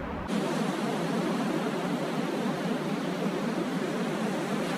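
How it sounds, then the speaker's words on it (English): Ocean ambience from a vintage-style synth plugin: a steady, dense wash of broadband noise that starts abruptly and holds at an even level throughout, with no voices. "Maybe the ocean."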